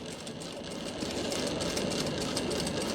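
A sewing machine runs steadily while stitching a border strip onto a dupatta. It gives a continuous, close mechanical whir with a fine rapid clatter, with no breaks or talk.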